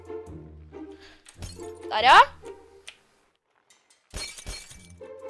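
Glass shatters once with a bright, crashing burst in the video game Happy Wheels, surrounded by excited game sounds and a player talking and shouting.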